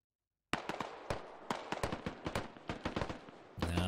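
Gunfire in the military shooter game Squad, a burst of sharp cracking shots from across a road, irregular and fairly rapid, at moderate distance, starting abruptly after a moment of silence.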